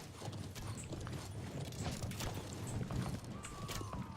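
Horse hooves clip-clop steadily on the ground in the medieval combat video game Conqueror's Blade, a continuous rhythmic trot over a busy battlefield background with faint game sounds.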